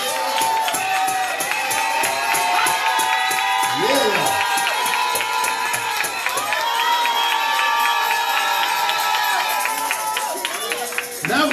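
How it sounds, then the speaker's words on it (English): A church congregation cheers and shouts praise during a worship service, a loud, sustained crowd roar with voices rising and falling throughout and no break. "That kind of cheer for you. That kind of cheer for me."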